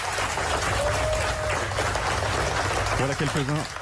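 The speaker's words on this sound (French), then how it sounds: "Voilà quelques-uns des applaudissements de dizaines de journalistes, ceux du journal d'opposition Apple Daily" Dozens of journalists at the opposition newspaper Apple Daily in Hong Kong applaud in a newsroom, a continuous wash of clapping with a brief tonal whistle partway through and a voice rising over it near the end.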